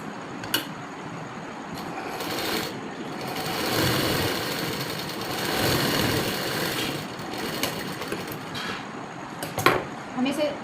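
A sewing machine runs a seam on a Patiala salwar. It makes a steady mechanical whir with faint ticking and light clatters, close by, while someone talks over it.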